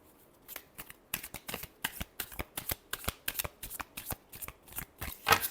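Tarot cards are shuffled in a quick series of about twenty crisp, papery riffle bursts, fairly close and soft, with no talking.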